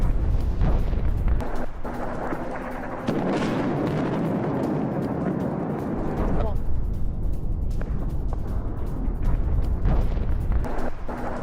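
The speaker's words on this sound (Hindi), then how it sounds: "पहाड़ी इलाकों में इजराइल की विध्वंसक बमबारी।" Bombing explosions in the hilly areas around Isfahan, Iran: heavy rumbling blasts and booming bursts rolling over one another, with a long loud swell in the middle, set against a dense, noisy background.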